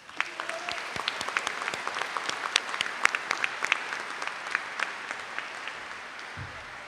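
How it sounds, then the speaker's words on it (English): A high school commencement crowd applauds scholastic recognitions, a moderate round of individual claps with distinct sharp hand strikes standing out, fading at the very end. "let's please give a round of applause"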